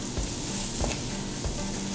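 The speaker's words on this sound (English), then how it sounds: "So we're gonna add in this sliced onion right to the pan." Sliced onion sizzling in a frying pan, a soft steady hiss with a few faint stirring knocks, quiet and close.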